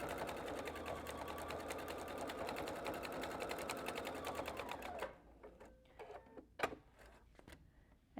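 A sewing machine with a standard presser foot stitches a terry cloth bath mat, running in a steady fast whir for about five seconds, then stopping with a few clicks and handling noises, close and fairly quiet.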